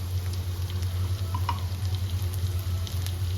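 Ghee hits mutton bhuna cooking in a pan, giving a steady, close sizzle and frying crackle with a low constant hum underneath.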